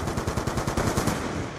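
Rapid automatic gunfire rattles loud and continuous in a Call of Duty Black Ops 2 match, a dense unbroken burst of shots.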